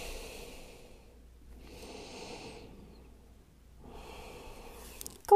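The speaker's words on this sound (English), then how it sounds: "take a big deep inhale, easy breath out, another nice big inhale, great big breath out" Deep breaths during a Pilates workout lying on a mat: three slow, airy inhale and exhale cycles, close and moderately loud, with quiet pauses between them and no talking.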